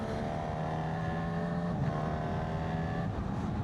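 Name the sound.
Honda CB1000GT motorcycle engine growl, Fireblade-based engine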